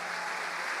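Congregation applause during a church service in Campo Grande, a brief, even wash of many hands clapping with no break.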